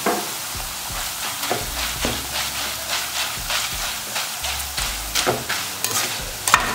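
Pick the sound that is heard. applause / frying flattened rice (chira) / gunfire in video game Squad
frying flattened rice (chira)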